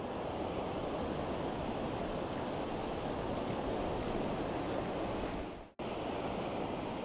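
Waves washing onto a small beach near a harbor, a continuous broad roar of surf and wind, loud and close, with a brief cut near the end and no voices.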